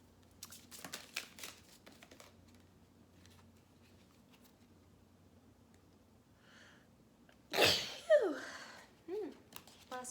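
A single sharp sneeze bursts out near the end of a quiet room, followed by a couple of soft clicks and rustles.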